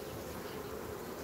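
Honeybees hum around their hive as they prepare for winter, a dense, even buzz of many insects that stays faint and unbroken.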